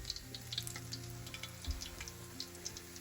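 Old-fashioned donuts frying in hot oil, a quiet, steady bubbling sizzle with small pops and a few soft knocks nearby as they are flipped with a chopstick.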